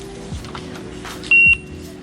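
A single short electronic beep from a checkout price scanner sounds over a steady background hum and murmur of a store, close and clear.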